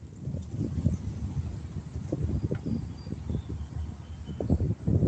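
Wind gusting across a lakeshore, buffeting the microphone in a steady, uneven low rumble with sporadic stronger gusts and no voices.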